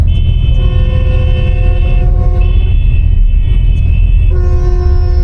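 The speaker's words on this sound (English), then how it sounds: "I can still hear the honking from outside." Car horns honk repeatedly outside a sleeper bus in Vietnam in long overlapping blasts, loud over a constant low rumble of traffic.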